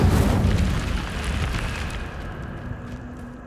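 Incendio fire spell cast in Hogwarts Legacy, a loud whooshing burst of flame at the start that rolls into a fading rumbling roar and dies away over a few seconds.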